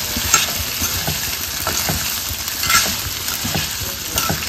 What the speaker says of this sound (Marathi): त्याच्यात घालू आपण ही खिचडी, आपलं साबुदाणा। हे मस्त मिक्स करून घ्यायचं